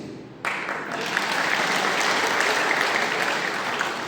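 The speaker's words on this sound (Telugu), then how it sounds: "ఈ అమ్మాయి ఇంకోసారి చప్పట్లు కొట్టాలి" A girl claps her hands in a steady, continuous burst that starts abruptly and runs close and fairly loud, sounding like brisk applause.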